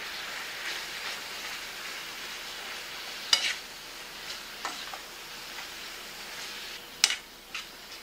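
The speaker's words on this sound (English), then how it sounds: "I'll stir that up good" A breakfast frittata with garden vegetables and grassfed beef sizzles quietly in a pan while a utensil stirs it, giving soft scrapes and a few sharp clacks against the pan over a faint, steady frying hiss.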